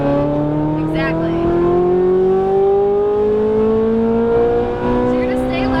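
A Ferrari 458 Italia accelerates on a track, its engine note rising smoothly in pitch across several seconds, loud and close, with an instructor's voice coaching over it.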